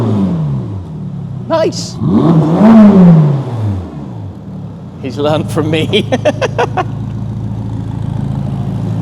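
A Ferrari Roma drives in, its engine rumbling and rising close by beneath loud conversation between people, with some sharp clicks and knocks toward the end.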